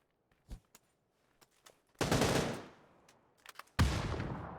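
Bursts of DP gunfire in a PUBG console esports match: a few scattered single shots, then two loud sustained volleys of rapid automatic fire, close and dominant, with no talking.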